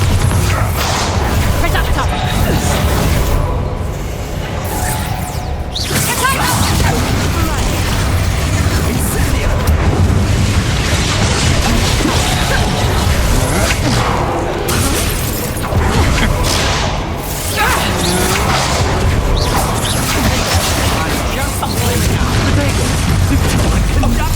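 Bombarda explosion spell in Hogwarts Legacy during a heavy fight: continuous loud booms, crashes and impacts pile up densely for the whole stretch, with shouted voices buried in the chaos.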